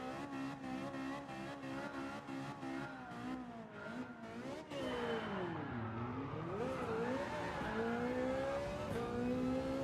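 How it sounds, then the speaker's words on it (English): Race car engine revving and shifting through gears in the Gran Turismo video game at Trial Mountain, a Jaguar VGT on track, loud and continuous with rising and falling pitch and faint tire noise, no talking. "Why Me's using a Jaguar VGT. It's got that Gran Turismo vision going on."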